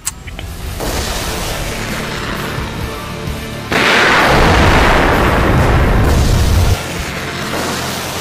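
An artillery weapon fires during a Turkish defence test, with one sharp blast at the start followed by a loud, sustained roaring rush that swells midway and then eases.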